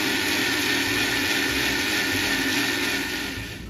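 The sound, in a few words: blender grinding homemade ice cream mixture to creamy texture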